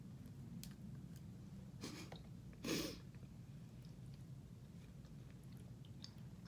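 Close, soft chewing and biting of baked ziti during a mukbang meal in New York, with brief wet bursts of mastication over a steady low room hum, no talking.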